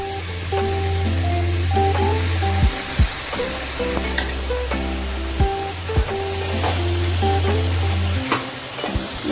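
A sizzling tempering for pappu charu, a Telugu lentil soup, is stirred in a pan. A steady loud fry and sizzle runs through it, with a few sharp scrapes and clatters from the spoon. No one speaks.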